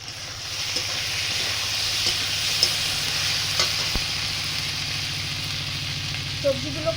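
Vegetables sauté in a pan on the stove with a steady, close sizzle and soft stirring scrapes. A few faint clinks punctuate the frying over seven seconds, with no talking.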